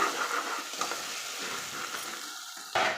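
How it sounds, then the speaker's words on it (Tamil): Spices sautéing in a pan for lima bean pulao, a steady soft sizzle with occasional stirring scrapes, close and alone without talk. "சேர்த்து நல்லா வணக்கிக்கலாம்"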